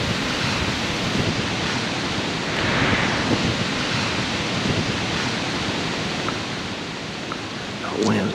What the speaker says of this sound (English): The wind's kind of rugged up here on the ridge this morning.